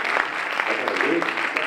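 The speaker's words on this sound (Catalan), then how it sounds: "Fort aplaudiment per ella, sisplau!" Applause from an audience at a Catalan teaching-innovation conference, a steady broadband clatter of many hands clapping throughout, with voices mixed in.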